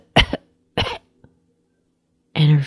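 Two short coughs a half-second apart, followed by a tiny click and then a brief voiced throat sound at the end, close and clear in a quiet room.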